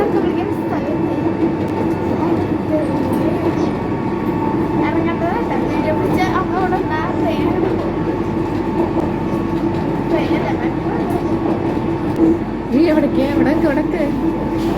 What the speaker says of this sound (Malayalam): ഓരോ സ്റ്റേഷനിലും കുറച്ച് നേരമല്ലേ മെട്രോ നിർത്തുള്ളൂ